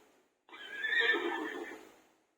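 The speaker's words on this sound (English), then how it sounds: "Zebra." A single whinnying zebra call from a toy early-education card device, a rising and falling bray lasting about two seconds, fairly faint and alone.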